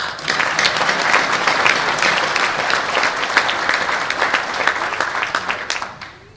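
A large crowd claps loudly and steadily for several seconds, the applause fading near the end.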